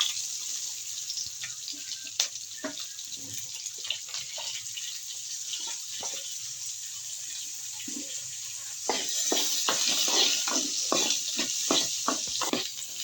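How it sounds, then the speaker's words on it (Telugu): Onions frying in hot oil for a fish curry, a steady high sizzle throughout with scattered spoon stirs and scrapes, growing louder and busier in the last few seconds. "మంచిగా ఫ్రై చేసిన ఉల్లిగడ్డ కొద్దిగా ఎర్రగెత్తాన్ని కలర్ వస్తున్నాయి"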